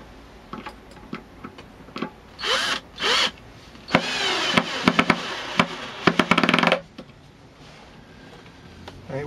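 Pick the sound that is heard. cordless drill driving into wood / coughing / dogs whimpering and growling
cordless drill driving into wood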